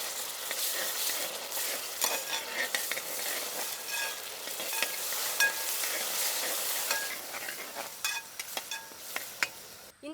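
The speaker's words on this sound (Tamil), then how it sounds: "இஞ்சி பூண்டு சேர்த்து நல்லா வதக்கி விட்டாச்சுங்க." Onions with ginger-garlic paste and curry leaves being sautéed in a pan for village-style garlic chicken, a steady close sizzle with repeated scraping stirs of the spatula throughout, no voices.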